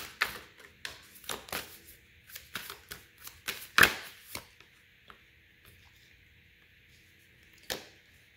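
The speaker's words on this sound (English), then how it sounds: "I'm just like not getting a good shuffle for this deck." Tarot cards riffle and snap in a run of quick, sharp bursts, fairly close, sticking as they are shuffled, then a few isolated taps after a quiet pause.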